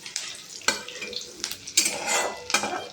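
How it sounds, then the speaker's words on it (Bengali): Chopped onions and mustard-poppy paste fry in a pan for a katla fish curry, sizzling steadily while a utensil stirs and scrapes with repeated sharp clinks against the metal. "এটাকে হালকা করে ভাজবো।"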